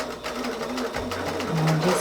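A sewing machine stitches in free-motion ruler quilting, its rapid needle chatter running steadily and close up, with brief shifts in motor pitch.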